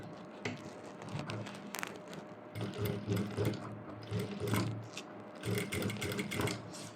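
A Jack sewing machine stitches a rolled hem with a roll hemming foot, giving a close, busy mechanical whir with rapid rattling and clicking that speeds up and pauses in several runs.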